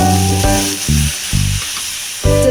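Water hits a hot pan for shengole, bursting into loud sizzling hiss in several short surges that fade between pours.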